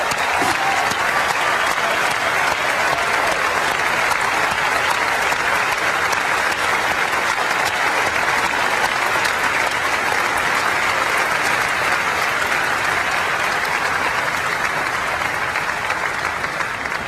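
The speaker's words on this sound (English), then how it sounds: "Let's give them a round of applause." A large audience at Apple's WWDC 2000 conference claps loudly and continuously, a dense, sustained roar of applause that holds steady throughout.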